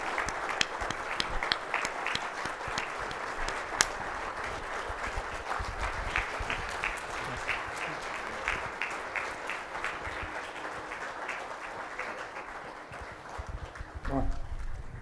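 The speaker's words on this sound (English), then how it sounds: "let's give him a big round of applause to this gentleman" Sustained audience applause for a guest at a mortgage business technology event, many hands clapping in a steady, crisp patter for about fifteen seconds, thinning slightly toward the end with a brief louder swell and faint voice near the close.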